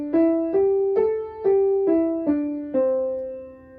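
A piano plays a pentatonic scale as seven clear single notes, struck one after another in a steady rhythm, each ringing and fading before the next, with the last note left to decay.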